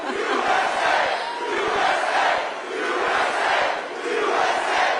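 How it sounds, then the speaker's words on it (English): A large crowd at a Donald Trump town hall in Oaks, Pennsylvania cheers and roars continuously, swelling in rhythmic surges like chanting, loud and close throughout. "This is a nice crowd."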